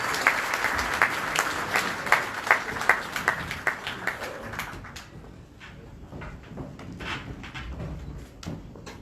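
An audience claps loudly at a celebration in Johannesburg, dense applause that peaks in the first few seconds, then thins into scattered, fading claps with a brief pickup near the end.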